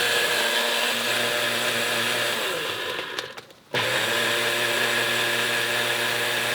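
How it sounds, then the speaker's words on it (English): A blender runs steadily, whirring as it blends a frozen banana cocktail, then briefly cuts out and sputters before roaring back to full, loud, even speed. "So I didn't have the blender hooked up right, apparently."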